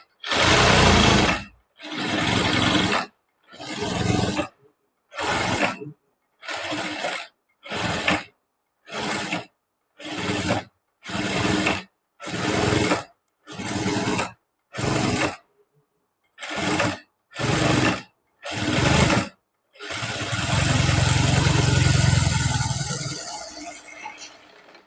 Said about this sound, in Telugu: మళ్ళీ ఇంకో స్టిచ్ అన్నది వేస్తున్నానండి.